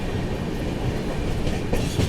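Jammu Mail passenger train rolling along the tracks, a steady loud rumble of wheels and carriages with faint rhythmic clatter throughout, no voices.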